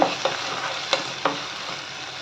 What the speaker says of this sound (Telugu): ముందుగా మనం నానబెట్టుకున్న పచ్చెనపప్పు కూడా వేసుకోవాలి దీంట్లో వేసుకొని ఒకసారి కలుపుకోవాలి